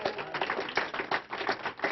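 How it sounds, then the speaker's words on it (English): A small group gives a round of applause, with dense, steady clapping that carries on for a couple of seconds with no voices over it. "Give them a round of applause."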